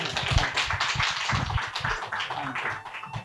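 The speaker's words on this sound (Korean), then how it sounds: "박수로 축하해 주시면 감사하겠습니다." Congregation applauding at a pastor installation and elder pastor ceremony at a church, a burst of fairly close, uneven clapping with distinct individual claps, easing off toward the end.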